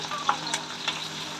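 Green chillies and onion fry in a pan for a drumstick vegetable dish, giving a steady sizzle with a few quick scraping stirs throughout, heard close and alone.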